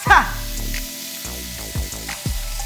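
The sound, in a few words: mirepoix sizzling in hot bacon fat in a pan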